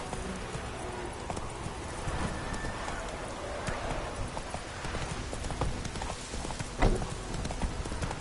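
Hooves of Roach, Geralt's horse in The Witcher game, clip-clop steadily at a walking pace, close and clear over a soft wash of rain-like ambience, with no talk.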